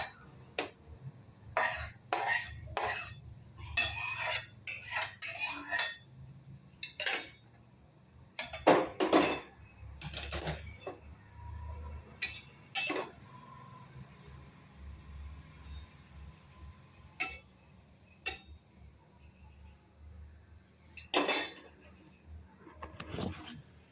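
A spoon clinks and scrapes against a pan while mixed veg paneer curry is moved into a serving bowl. The sharp, irregular bursts come in clusters, separated by quieter stretches over a steady high-pitched hum.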